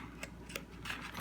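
Scissors snip open a package with three or four quiet, sharp cuts spaced through a faint room hiss.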